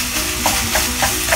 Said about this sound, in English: So we're going to keep frying until it's dry.